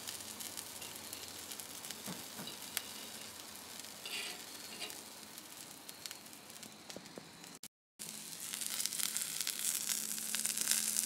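Red squirrel meat sizzles and fries in a pan as it browns, a steady crackling hiss with occasional pops, fairly quiet and close, broken by a brief moment of silence near the end.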